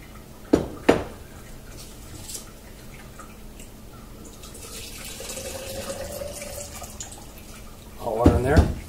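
Hot water runs into a vessel on a kitchen counter during home beer brewing, a steady soft splashing stream that builds gradually, bracketed by a few clanks of equipment.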